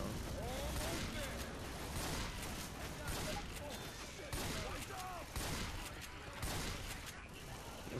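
Rapid bursts of gunfire from the Left 4 Dead 2 video game fill the clip, dense and continuous with repeated volleys, mixed with game voices talking over the shooting.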